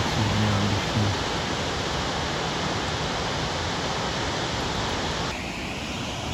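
A roaring waterfall right beside a campsite in Norway, a loud, dense, unbroken rush of falling water close by with no break or change in intensity.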